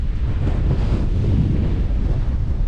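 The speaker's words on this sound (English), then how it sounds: "It is super windy though." Strong wind buffets a small island on a mountain lake in winter rain, a loud, steady low roar pressing against the microphone with no talk.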